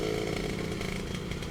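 A Suzuki Satria R120 motorcycle on its stock exhaust revs hard, a dense buzzing engine drone held steadily close to the microphone for a short burst, with no talking over it.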